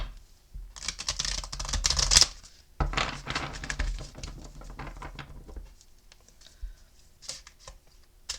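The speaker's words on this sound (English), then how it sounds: "Let me stop and shuffle them." Playing cards are shuffled in quick riffling bursts of fluttery patter, close up, followed by softer scattered taps and shuffles.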